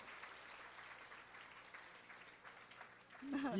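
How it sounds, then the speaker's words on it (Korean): Applause from a church congregation during a Sunday service couples' celebration, a steady crowd clapping through the clip that swells louder near the end, with voices mixed in. "박수 한번 보내세요"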